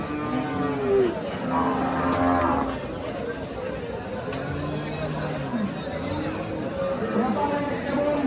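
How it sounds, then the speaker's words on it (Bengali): Sahiwal cattle moo repeatedly at a busy Bangladeshi cattle market, several drawn-out calls spread through the stretch over steady crowd murmur, with people talking nearby. "মাশাআল্লাহ খুব সুন্দর সুন্দর শাহিওয়াল গরু।"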